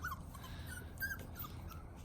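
A Mini Goldendoodle puppy whimpers softly in short, faint whines over a low, steady background rumble, with no talk heard.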